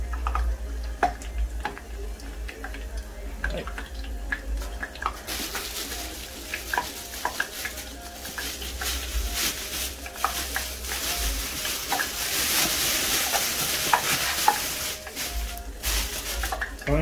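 Garlic sizzles steadily in hot cooking oil for adobong mani, with scattered clicks and scrapes of a utensil stirring in the pan throughout, close and continuous.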